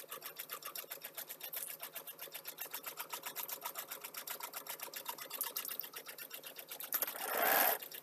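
A domestic sewing machine stitches at a fast, even rhythm, its needle clattering steadily for several seconds before a brief louder whir near the end.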